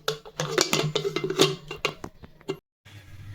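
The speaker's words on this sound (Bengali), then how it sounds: "এখন এই যে ঢাকনাটা লাগিয়ে দেব, ঢাকনাটা লাগিয়ে 2 থেকে 3টা সিটি মারাবো।" Metal clinks and clatters as a lid is fitted onto a pressure cooker in a home kitchen, a quick series of close taps and scrapes ending in a short pause.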